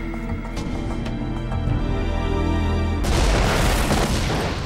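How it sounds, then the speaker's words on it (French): Explosion aboard an airliner's cargo hold: a steady drone with engine hum suddenly gives way to a loud, broad blast of noise that sustains as a roaring rush. "L'explosion a détruit une partie du plancher de l'avion"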